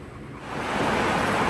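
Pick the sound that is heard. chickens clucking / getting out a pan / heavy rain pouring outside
heavy rain pouring outside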